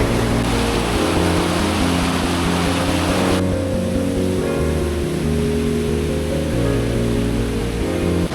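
Rushing water at the Geetkhola Three Sisters waterfall in North Bengal makes a loud, constant, close roar that does not let up, with no voices heard.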